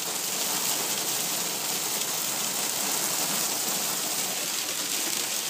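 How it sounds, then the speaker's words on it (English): Small hail falls steadily on a car, a dense, loud, unbroken patter of pellets striking the windshield and body, heard from inside with no pauses or talk. "it's hailing right now."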